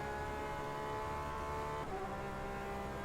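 A GT race car reverses slowly along a wet pit lane, its engine holding a steady, droning idle-like tone that dips in pitch partway through, fairly close and continuous.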